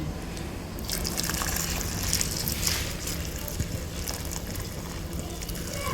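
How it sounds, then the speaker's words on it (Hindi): Meat broth (yakhni) is poured into mutton trotters (paya) cooking in a pot, giving a continuous liquid splashing and sizzling wash, fairly close, with some background noise. "तो अब हम इस यखनी को पायों में शामिल कर दें।"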